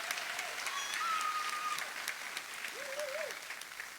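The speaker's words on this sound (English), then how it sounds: "a round of applause as we welcome Laura with us here tonight" Steady audience applause at a livestreamed evening event welcoming a guest artist, a continuous wash of clapping with faint tonal sounds drifting over it.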